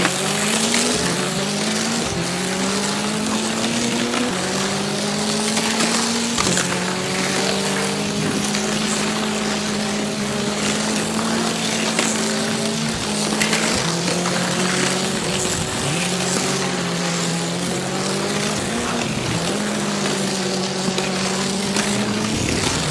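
Motorized diecast toy cars racing along a track in a food truck tournament heat, a constant high whining motor buzz with wavering pitch and brief dips, steady and close throughout.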